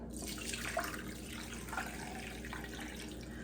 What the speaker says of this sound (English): So let's strain this real quick.